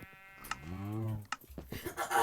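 A goat in the Minecraft video game bleats once in a long, wavering, nasal cry up close, followed by clicks and a burst of speech.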